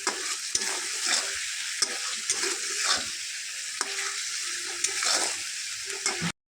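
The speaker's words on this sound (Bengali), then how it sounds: "এই যে ভেজে রাখা পটলগুলো এর মধ্যে ঢেলে দিলাম" Fried pointed gourd pieces tip into a hot pan and are stirred, producing a bright steady sizzle with regular scraping strokes and small knocks of the spoon, close and loud until an abrupt stop.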